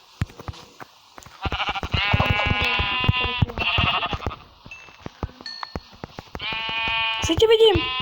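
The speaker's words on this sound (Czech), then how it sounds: "Ale našel jsem ovečky." Several sheep in the Minecraft game bleat in short harmonic bursts, some overlapping, with a few clicks and game sounds in between; no talk over them.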